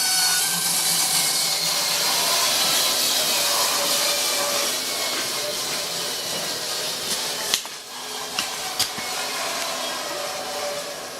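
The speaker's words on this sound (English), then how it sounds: "So now we'll take this over to the belt sander." A belt sander runs steadily at close range, shaping a small HO-scale model cargo container for a model railway module, a continuous broadband whine with a few sharp knocks near the end.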